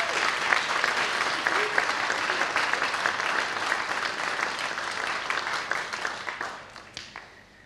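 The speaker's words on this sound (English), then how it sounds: "So let's give them a big round of applause." Sustained applause from a church congregation during an Easter Day service baptism, dense and steady clapping filling the room before fading out near the end.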